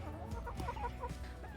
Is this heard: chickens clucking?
yes